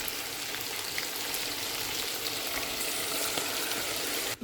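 Mutton frying in a pan for Pakistani-style turnip curry as tomatoes go in: a steady, close, bright sizzle and crackle that holds evenly throughout and cuts off sharply at the very end.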